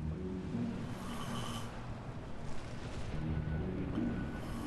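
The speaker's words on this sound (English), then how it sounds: "even his snore makes him sound like a know-it-all" A sleeping character in Minecraft Story Mode snores in low, rumbling breaths that rise and fall slowly, quiet and continuous with no talk over it.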